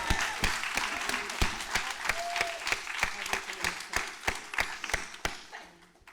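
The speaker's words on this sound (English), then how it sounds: "Can we give him one more round of applause?" An audience gives a round of applause, crisp hand claps in a fairly small room ringing steadily for several seconds before thinning out and fading.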